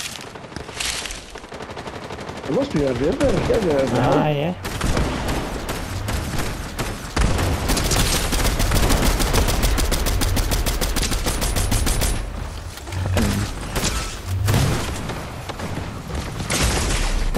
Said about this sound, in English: I can see the gunfire